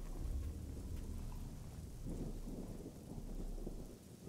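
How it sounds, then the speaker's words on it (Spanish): Rain falls in the video game Generation Zero, a constant wash of downpour with low rolling rumbles of thunder swelling and fading beneath it, no voices. "está lloviendo ahora"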